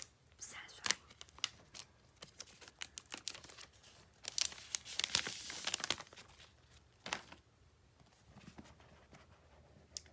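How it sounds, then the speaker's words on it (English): Plastic wrap is torn and crinkled off a new iPhone SE box in sharp, irregular rips and rustles, close and fairly loud, with a dense burst midway and quieter handling toward the end. "let's just tear this plastic"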